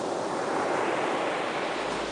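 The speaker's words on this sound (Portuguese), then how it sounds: "ao inconfundível som das ondas do mar" Ocean waves wash steadily as a continuous broadband hiss and rush, fairly loud and close, with no voices over it.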